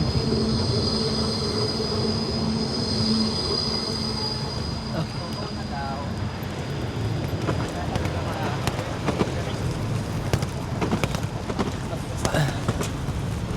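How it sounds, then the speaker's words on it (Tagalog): A train runs past at Basel station, its steady rumble filling the scene and wheels squealing and clicking over the rails, with people talking nearby. "Dadaan yung train."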